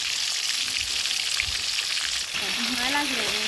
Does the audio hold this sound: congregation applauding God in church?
no